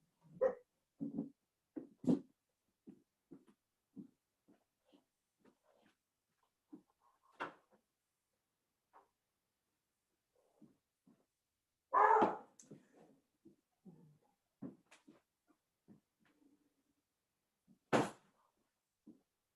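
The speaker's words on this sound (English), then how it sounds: "I'm going to open a door and let that dog out" A dog barks indoors in short, scattered bursts, several faint yips and a couple of louder barks separated by quiet gaps.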